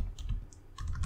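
Someone types an npm install command on a computer keyboard, giving a quick, close burst of a few clicking keystrokes.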